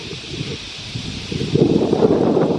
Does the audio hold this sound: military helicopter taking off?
no